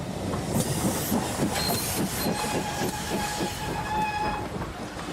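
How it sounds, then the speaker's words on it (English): A London train runs along the rails with a steady, close rumble and rhythmic clickety-clack, while faint whistle-like tones float above the continuous rolling noise, with no one speaking. "London train."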